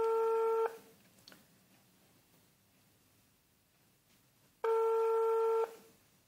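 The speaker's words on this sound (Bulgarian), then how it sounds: "Почва да звъни." Telephone ringing tone played over speakerphone, two steady electronic ring bursts about four seconds apart, each lasting under a second, separated by quiet hiss with no talking.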